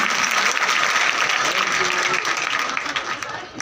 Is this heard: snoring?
no